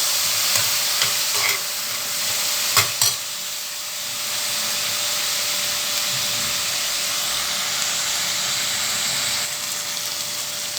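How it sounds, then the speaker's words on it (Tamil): Mint, ginger and garlic sautéing in oil in a pan for a mutton dish give a steady, close sizzle, with a few sharp stirring scrapes and clinks in the first seconds before the hiss settles into an even wash. "புதினா தலை இதெல்லாம் இருந்துச்சுன்னா சேர்த்துக்கோங்க இது நல்லா வதங்கி வரட்டும்"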